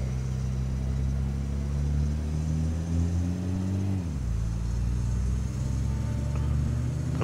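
A steady, rumbling car engine in the video game State of Decay hums continuously, its pitch dipping once partway through before settling into a low, even drone; the engine sounds rough and puttering.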